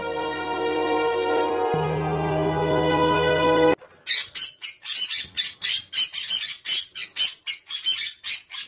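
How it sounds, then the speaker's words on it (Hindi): A parrot in distress lets out a rapid series of about ten loud, harsh squawks. They follow a stretch of sustained tonal music that cuts off abruptly. "ये किसकी आवाज है? मुझे लगता है या तो एक पक्षी की आवाज है"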